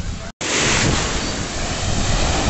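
Rough ocean waves break on Barra do Jucu beach in Espírito Santo, a loud, continuous roar of surf mixed with wind buffeting the microphone after a brief cut.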